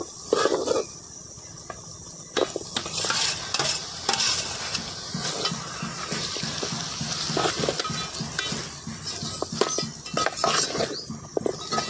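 Village country chicken dropped into hot tempering oil in a pot, a constant close sizzle and hiss with stirring clatter and bursts of spattering, loud and unbroken, no voices.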